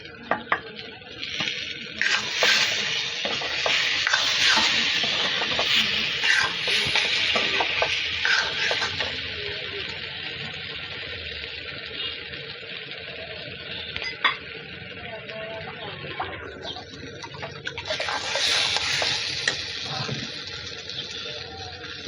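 Soybean chunks go into a pan with fried potatoes and are stirred, giving scraping, clattering spoon strokes over a steady sizzle, with bursts of louder stirring near the start and end.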